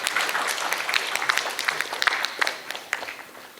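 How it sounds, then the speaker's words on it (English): Audience applause for a panel at a design debate event in Ahmedabad, a steady patter of many hands clapping at moderate distance, sustained throughout without talk. "let's please have a round of applause for this brilliant panel"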